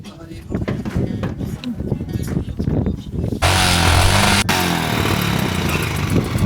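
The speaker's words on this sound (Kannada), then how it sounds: "ಫೈರ್ ಆಗ್ತಾ ಇಲ್ಲ ಇಂಜಿನ್." A motorcycle engine at a high-altitude mountain pass struggling to fire, heard as an uneven engine note that turns into a steadier, louder running roar, with wind and voices nearby.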